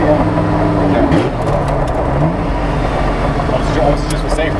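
A street-legal Porsche 917 fitted with an Audi R8 V10 engine revs up toward its rev limiter, a loud, close, sustained engine roar with slight rises in pitch.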